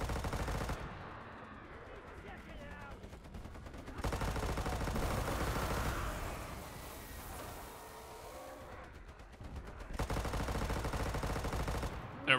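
Rapid automatic gunfire in the video game Enlisted comes in two long sustained bursts, with a quieter stretch of rumbling battle noise between them.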